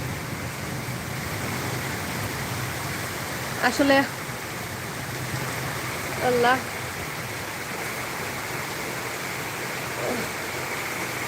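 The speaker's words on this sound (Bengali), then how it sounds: "জানালাত বইয়া বৃষ্টি উপভোগ করতে গেলে ভালো লাগে" Rain falling steadily outside a window during a thunderstorm, heard from indoors as an even rushing wash, with a voice briefly rising over it twice.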